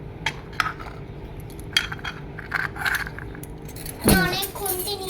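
Metal spatulas clattering and scraping against dishes while food is served at home, a series of sharp close clinks, with a voice briefly audible near the end.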